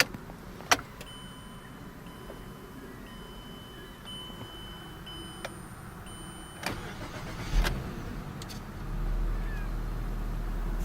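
A 2014 Mazda CX-9 GT engine cranks and catches near the end via push-button start, settling into a low idle after a few clicks and brief beeps in a quiet cabin.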